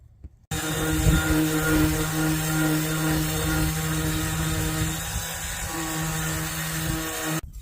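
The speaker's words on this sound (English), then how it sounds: "Got the surface all sanded." A power sander works over the surface of a Farmall Cub tractor part being prepped for red paint, a steady loud whirring drone with a constant pitch running almost the whole time, starting abruptly and cutting off at the end.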